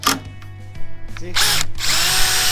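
Close, loud power drill bursts in short stops and starts, then a longer sustained whir.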